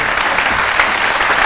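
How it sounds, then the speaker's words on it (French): Studio audience applauding on a French TV talk show set, a dense, steady wash of clapping hands that fills the whole moment with no voices over it. "On l'applaudit très fort."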